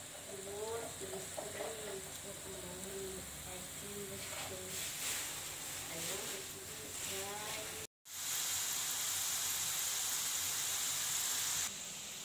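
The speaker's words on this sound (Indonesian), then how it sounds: "jadi kita bakalan goreng pilus ininya ya guys" Pilus kencur snacks fry in hot oil with a dense, steady sizzle, first under faint talk, then cut briefly and resuming louder and brighter after a short gap.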